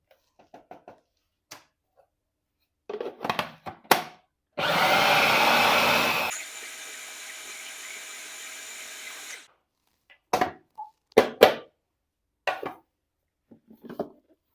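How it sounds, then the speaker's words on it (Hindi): An electric food chopper whirs loudly for a few seconds while mincing chicken with ground spices for green nuggets, then winds down, with sparse clicks and knocks before and after. "एक बार फिर से मैं स्पैचुला की मदद से आपस में तमाम पिसे हुए मसाले को मिक्स करके कुछ देर के लिए चॉपर मशीन फिर से चला लूंगी।"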